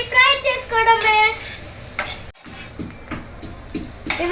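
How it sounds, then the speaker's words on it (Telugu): Chopped onions fry in a pan with a close sizzle and stirring scrapes, a voice sounding briefly at the start before a short cut and more pan noise. "చాప్ చేసుకొని ఫ్రై చేసుకోవడమే"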